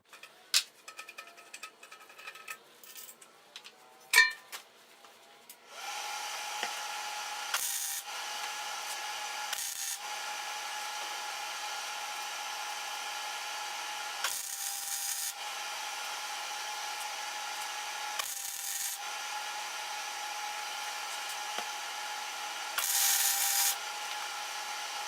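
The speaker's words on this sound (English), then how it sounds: "Now I'm going to take my time and tack weld or spot weld the rest of the way around it." Tack welding a bung onto a motorcycle gas tank: short bursts of steady welding buzz repeat at intervals over a continuous low hiss, after some scattered clicks and taps at the start.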